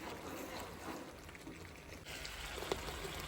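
Water pours and streams as it is strained off a pot of cooked rice in a home kitchen, a steady, close rush with a brief clink near the end.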